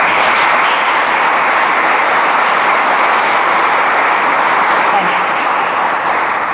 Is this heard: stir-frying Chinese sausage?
no